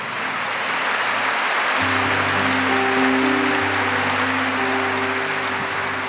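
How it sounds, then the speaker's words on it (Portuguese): Steady applause from a church congregation fills the whole stretch, dense and even, with a low sustained organ or keyboard tone entering partway through. "Vamos aplaudir os nossos homens."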